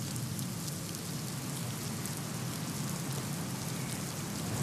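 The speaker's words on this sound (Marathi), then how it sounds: "पुण्यात पुन्हा मुसळधार पाऊस सुरू झालाय" Heavy downpour in Pune, a continuous, broadband rush of rain at moderate, distant-sounding level, steady throughout with no voices.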